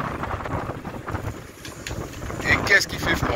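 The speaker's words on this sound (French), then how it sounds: "j'ai même du mal à parler avec le vent dans la gueule comme ça" Strong gusting wind of around 50 knots sweeps through the marina at Port Leucate, roaring and buffeting the microphone in a steady broadband rush that swells louder near the end, with boats nearby and faint voices beneath.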